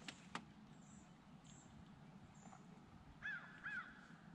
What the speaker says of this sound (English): That one sounds like a crow.